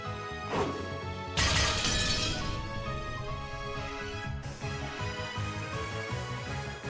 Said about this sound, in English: There was a sound of breaking glass.